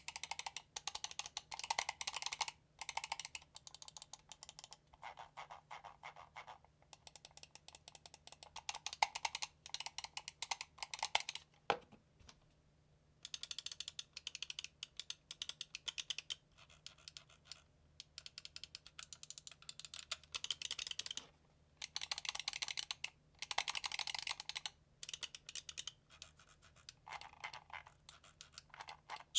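Fast, dense bursts of small plastic clicks from a Pulsar X2H gaming mouse's switches, tapped in quick volleys with short silent gaps between, quiet and close up.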